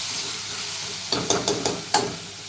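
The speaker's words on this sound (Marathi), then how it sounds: "आता बघा दोन मिनिटभर आपला बटाटा चांगला असा परतून झालेला आहे" Potatoes being stir-fried in a pan over a low flame, a soft sizzle under several clattering spatula strokes clustered in the second half, close by with no voices.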